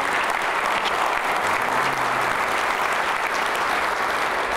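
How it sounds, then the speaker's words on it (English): A banquet-hall audience at a city dinner applauds steadily, a dense, even roar of many hands clapping throughout with no break. "Please give them a round of applause."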